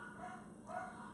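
Dogs bark and yip in the background, a couple of muffled bursts over a steady low hum, fairly faint and distant.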